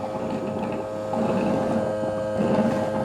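A Roborock S8 Pro Ultra base station washes its mop, giving a steady mechanical hum with faint whirring and sloshing, constant and moderately loud without voices.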